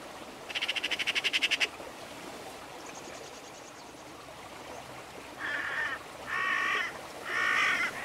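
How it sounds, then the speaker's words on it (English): Hooded crows calling near a field where shot birds lie, with a quick burst of rattling caws followed by several louder, drawn-out harsh calls, clear over a soft background hiss. "Hooded crows can be very vocal at the sight of a dead bird"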